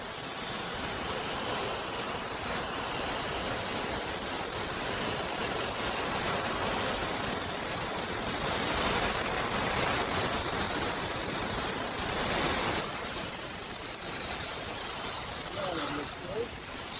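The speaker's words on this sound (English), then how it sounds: "then I'll come up, start to do the blasting" A media blaster strips log house stain with compressed air, producing a steady, broadband blasting hiss that runs throughout and swells in intensity near the middle.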